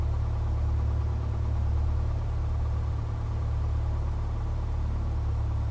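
A Piper Cherokee light aircraft engine warming up at about 1,000 RPM in the Prepar3D 4.2 flight simulator, a steady low droning idle that holds even and unbroken throughout.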